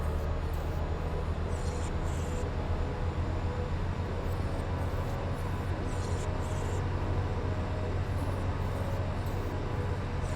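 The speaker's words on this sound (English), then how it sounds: "Get to race a train." Low rumbling train running alongside the road in Euro Truck Simulator 2, a continuous rolling drone with the truck engine hum underneath and a few periodic clatters, steady throughout with no talking.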